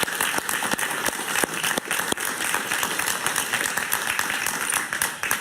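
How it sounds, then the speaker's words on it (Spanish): Studio audience applause on a Spanish-language talk show, steady dense clapping from a crowd that stays loud and even throughout with no voices. "Un aplauso para don Enrique Salas Romer, por favor."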